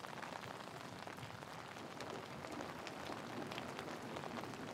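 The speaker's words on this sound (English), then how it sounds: "It's raining." Rain falling on a train station platform, a dense, even hiss of countless drops spattering on hard ground, steady and soft throughout with no voices.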